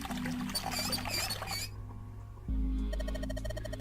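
Water runs from clogged pipes in the Zero Escape: 9 Hours, 9 Persons, 9 Doors game, a soft gushing pour over a low hum that breaks off, then pulsing electronic tones and a deeper drone.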